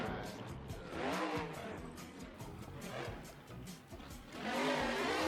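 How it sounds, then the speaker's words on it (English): A monster truck modeled on a Cadillac Escalade in the BeamNG.drive driving game, at a freestyle esports event, roars with steady engine revving and rising surges, accompanied by tire squeal and a faint voice underneath. "let's see if Bryce can throw together something here that makes him competitive in that beautiful Escalade truck."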